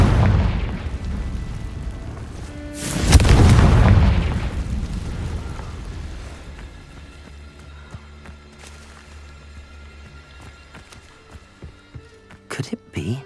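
Confringo spell blast in Hogwarts Legacy: a single loud explosive boom erupts, rumbles for about a second, then decays into quiet ambience with faint tinkling, footsteps and a few soft knocks near the end.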